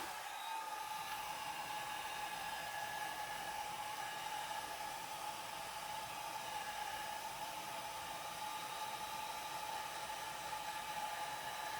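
A hair dryer blows steadily over fresh alcohol ink on a flower painting, a constant airy whirring hum with an even high whine, unbroken and alone for the whole stretch.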